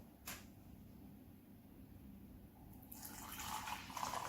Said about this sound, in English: It's a nice high pour there